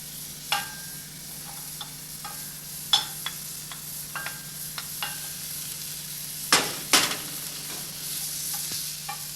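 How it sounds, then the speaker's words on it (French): Shallots browning in a little butter in a pan for a Lorraine recipe, a steady soft sizzle with occasional sharper crackles and stirring clicks, close and moderately quiet, no talk. "Vous faites blondir une partie des échalotes dans un peu de beurre."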